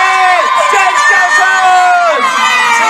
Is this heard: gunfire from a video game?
no